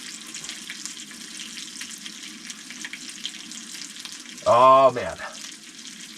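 Brook trout fillets sizzle and fry steadily in a pan in a mountain ice-fishing camp. A man's brief exclamation rises loudly over the frying near the end.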